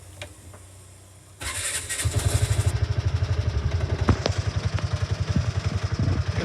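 A Piaggio Ape City tuk tuk's small engine cranks and catches, then settles into a loud, steady, rapidly pulsing idle close by.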